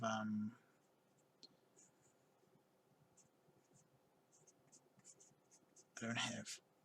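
Soft, scratchy pencil strokes on paper, faint and intermittent, with a brief voice at the start and again near the end.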